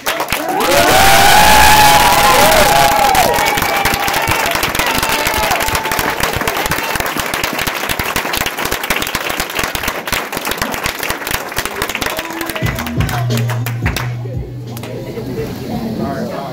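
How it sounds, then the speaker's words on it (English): An audience bursts into applause, cheers and whoops for a speaker at a Saturday event, loud at first then gradually thinning, with a voice starting to speak near the end. "help me give him a round of applause for Miguel"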